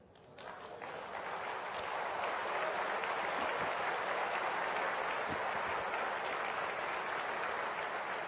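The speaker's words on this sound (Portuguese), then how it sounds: "Por isso, ele vai receber o nosso aplauso agora." A church congregation applauds steadily after a sermon remark, a dense, even wash of clapping that holds at a constant level for several seconds with no voices heard over it.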